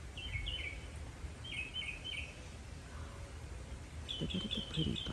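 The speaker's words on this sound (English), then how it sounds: "I love to hear the birds chirping." Birds chirp and tweet outdoors in an orchid garden on a windy morning, in short repeated bursts, with a few calls close by and others farther off over a low background rumble.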